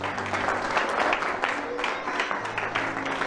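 A church congregation applauds together during a sermon, a dense, steady wash of clapping with some voices mixed in, filling the room for a few seconds.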